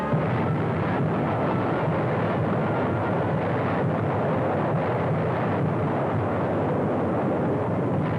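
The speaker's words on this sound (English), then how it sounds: "American Fifth Army artillery hammered back." American Fifth Army artillery fire on the road to Rome in wartime Italy: a dense, continuous roar of heavy guns and rumbling blasts, loud and unbroken, with no clear gaps between shots.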